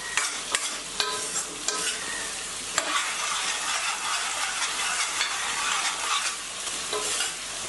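A pan of radish sambar with tomatoes being stirred, a dense bubbling sizzle under repeated sharp scrapes and taps of the spoon against the pan, steady and close with no one talking.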